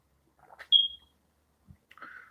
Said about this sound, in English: The beeping noise, I think, is my smoke detector in my ceiling.